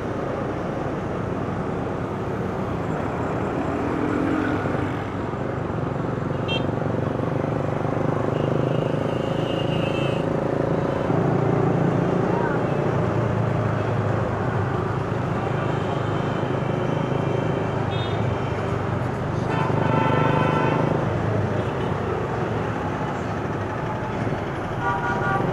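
Busy street traffic in old Lahore: a constant wash of engines and road noise with repeated short horn toots scattered throughout, near and loud, without talk.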